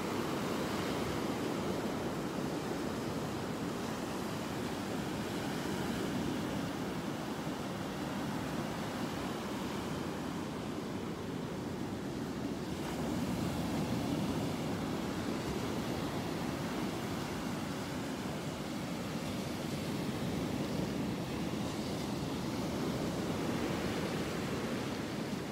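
Waves break continuously along the shore at Delnor-Wiggins beach, forming a steady, moderately loud roar of surf with a light wind rush and no talking throughout.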